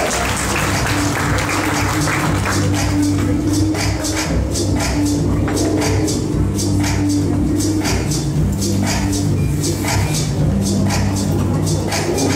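An audience at a national youth fashion contest in Varna applauds a model, with steady clapping over music that plays throughout.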